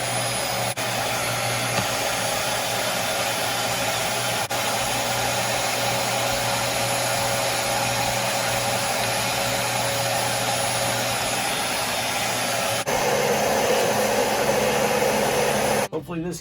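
A repaired Dyson Ball DC40 Animal vacuum cleaner runs with a constant close whine and airy roar, holding steady before the pitch and loudness shift upward near the end as the machine is lifted, then cutting off abruptly.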